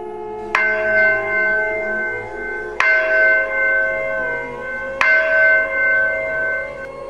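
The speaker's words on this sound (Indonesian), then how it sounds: "bunyi lonceng gereja terdengar cukup nyaring" A church bell tolls three times at even intervals, each loud metallic strike ringing out with a long humming decay that fades before the next.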